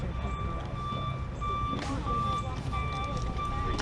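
Motorcycle Bluetooth intercom beeping during pairing, thin repeated tones over a low engine rumble and wind, with a voice talking in the background.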